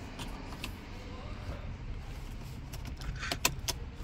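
A 2012 Mercedes-Benz C180 Classic 1.8 turbo automatic being entered and started, with keys jangling, a door and cabin clicks, and a low steady engine rumble running throughout at close range.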